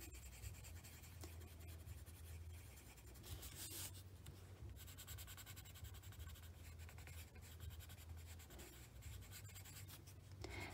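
A watercolour pencil crayon scratches across paper in steady, quiet strokes, sounding close and soft throughout with brief pauses between strokes.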